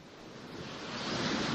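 Sea waves crash against a sea barrier in a broad, steady roar of surf that swells slightly louder toward the end, with no voices.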